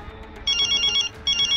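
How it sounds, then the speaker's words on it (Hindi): A phone rings in two bursts of bright, repeating electronic ringtone tones. The second burst follows a brief pause, and both sit over a low room hum with no talking. "दादी का फोन आ रहा है।"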